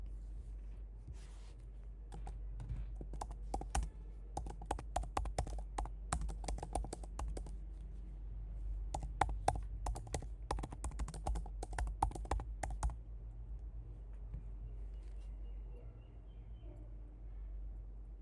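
Keys clatter in steady bursts on a computer keyboard as a campaign name is entered, close and clear with short pauses, then the tapping stops and only a low hum remains.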